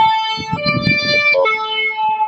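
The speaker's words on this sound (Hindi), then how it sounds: "एम्बुलेंस की साउंड थी आंटी" A wailing siren with shifting electronic tones sounds close and loud, warbling between pitches over a brief stretch with some rumbling noise beneath.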